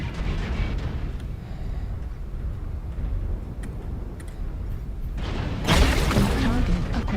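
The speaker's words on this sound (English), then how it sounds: "Weapon explosion detected." Mechs explode during battle in the video game MechWarrior Online, with low rumbling booms under a steady drone and a loud burst near the end, along with a few sharp ticks.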